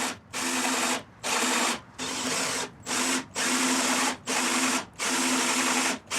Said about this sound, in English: I'm working with a really big Forstner bit here. It's 2 inches.